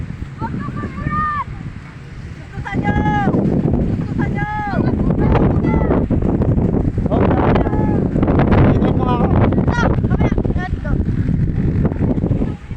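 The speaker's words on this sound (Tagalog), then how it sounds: "sobrang pong lakas ng hangin po dito sa amin" Strong wind buffets the microphone outdoors where people are flying a kite, a loud rumbling roar that swells and gusts continuously, while people talk and call out over it.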